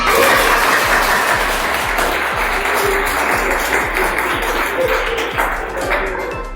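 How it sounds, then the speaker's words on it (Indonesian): A class of students applauds during a sociology lesson, a steady wash of many hands clapping close by with no talk over it. "Tepuk tangan semuanya."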